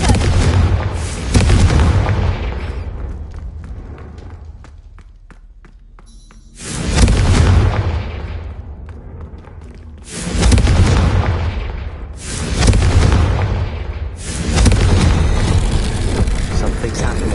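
Confringo blasting spells detonate in Hogwarts Legacy as four or five heavy, booming explosions, each a sudden loud burst that rumbles and fades before the next one hits.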